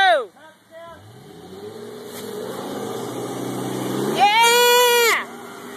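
A Ford F-350 6.8L V10 4x4 truck pulling a Toyota Tacoma out of mud, its engine rising in a long revving surge under shouting voices, ending in a loud high whine.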